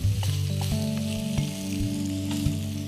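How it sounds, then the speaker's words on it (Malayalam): Vegetables including okra sauté in oil in a pan, a close, steady sizzle and fry with occasional stirring clicks and no voices. "കുറച്ച് എണ്ണ ഒഴിച്ചിട്ട് ഈ പച്ചക്കറി ഒന്ന് അതിലേക്ക് ഇളക്കി ചേർക്കുക, ഒന്ന് സോട്ട് ചെയ്യുക"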